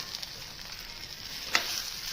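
Paneer chilli sizzles steadily in a pan while being stirred, with one brief sharper scrape or clink partway through and no talking.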